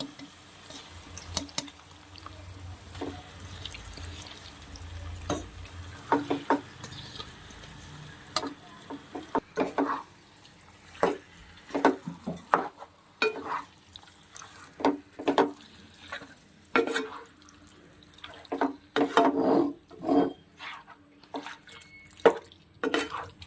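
Chicken frying in a pot with turmeric and spices, a quiet sizzle that gives way to repeated wet stirring strokes and clinks of a spoon, close and intermittent, louder in the second half.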